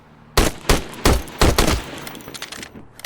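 Gunfire from an unsilenced, hard-kicking gun in the video game HOLE: five or six loud, punchy shots fired in quick succession, then a few fainter trailing reports as the burst dies away.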